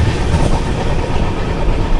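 Kacheguda–Madurai Superfast Express running on rails, heard from inside an AC 3-tier coach as a steady, loud low rumble with faint rhythmic wheel clatter.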